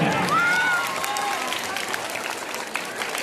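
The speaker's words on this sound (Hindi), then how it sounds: "तालियां बजाते रहिए" Clapping from a school crowd at a 15 August function continues as a steady rattling wash, with a brief tonal whistle-like sound early on and faint voices beneath.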